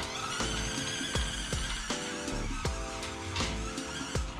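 The small electric motor of a WPL C24 1:16 scale RC crawler whines steadily at full throttle, close and continuous, with periodic clicks and surges as it revs.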